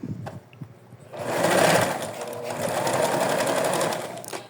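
A sewing machine runs a safety seam on a plush fox comforter toy. A few soft clicks come first, then one steady, loud stretch of close stitching.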